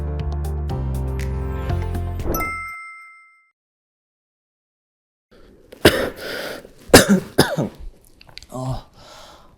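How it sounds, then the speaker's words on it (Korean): A ringing chime fades into silence, then a student at school nearby coughs several times in rough, uneven bursts. "아침에 약 먹었는데도 계속 기침이네."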